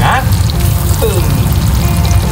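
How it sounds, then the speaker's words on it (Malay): Steady loud sizzling of an egg frying in a hot pan, a continuous crackling hiss that holds throughout. "Lagi goreng telur mata."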